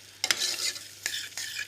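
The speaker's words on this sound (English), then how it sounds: "So let's stir it through the herbs." Fregola being stirred with chopped chives and herbs, a few scraping strokes of a spoon against the pan over a light background sizzle, close and alone.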